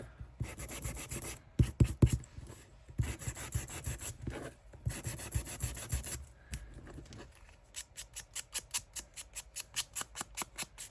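Small handheld sander working over the edges of a paper craft frame wrapped in washi tape, a close rubbing buzz in uneven bursts that gives way to rapid, regular pulses near the end.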